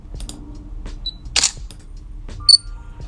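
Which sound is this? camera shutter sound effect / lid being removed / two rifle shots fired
camera shutter sound effect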